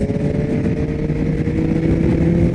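A 2022 Yamaha XSR900 motorcycle engine drones steadily while riding a mountain road, a loud, close, continuous hum with a slight rise in pitch.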